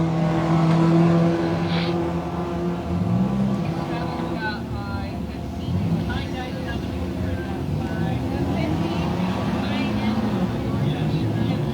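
Race cars and a minivan roar around an enduro speedway, with engines droning and revving at a distance while an announcer talks over them.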